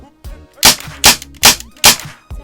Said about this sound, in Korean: 리볼버라서 반동은 없는데 소리가 쩌렁쩌렁하네요